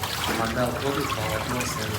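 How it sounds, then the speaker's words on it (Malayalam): Water trickles and splashes close by as a net is scooped out of water mixed with pounded, crushed tree bark, giving a brief, uneven dribbling pour. "ഇടിച്ചു ചതച്ച മരത്തൊലി ഇവിടെ കൊണ്ടുവന്ന് വെള്ളത്തിൽ കലക്കിയിട്ട് ഒരു നെറ്റിനകത്ത് ഇങ്ങനെ കോരിയെടുക്കും"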